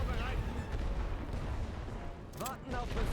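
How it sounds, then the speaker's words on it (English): Artillery bombardment in The Great War: Western Front, a dense continuous rumble of distant booms and gunfire filling the whole stretch, with a voice briefly rising over the barrage near the end. "So let's drop some artillery there."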